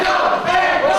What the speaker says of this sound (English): This crowd absolutely on fire here tonight in Lucan.